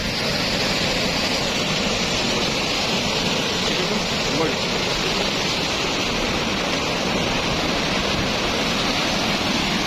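A large night-time flood of water pours into Khanozai Dam, a loud continuous roaring rush that stays steady throughout.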